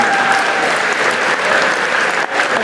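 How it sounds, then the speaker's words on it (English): Audience at a school winter Christmas concert gives the sixth grade band a full, steady round of applause, dense continuous clapping filling the hall for a few seconds. "how about another round of applause for the sixth grade band?"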